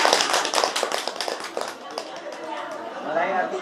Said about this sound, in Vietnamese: bà con vỗ tay